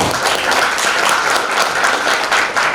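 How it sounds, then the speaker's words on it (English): An audience at a youth festival business idea competition applauds with dense, steady clapping that fills the room at full loudness throughout. "please guys, can you all give applause to them?"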